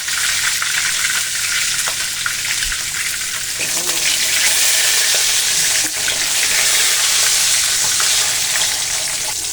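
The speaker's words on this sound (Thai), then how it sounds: "เกิดจากน้ำที่อยู่ในตัวปลาทู พอเจอกับน้ำมันก็เลยกระเด็น" Steamed mackerel frying in hot oil, with loud, steady sizzling and spattering close up as moisture from the fish hits the oil, running continuously with no talk.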